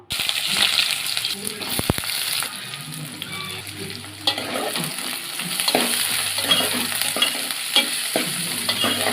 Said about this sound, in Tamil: வெங்காயத்தை அப்படியே கொஞ்சம் நேரம் கிண்டி விட்டு அப்படியே ஒரு 5 நிமிஷம் விட்டுருங்க.